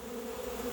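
A swarm of honeybees clustering around their queen during a swarm capture, giving a steady, close, continuous buzzing drone with no talk.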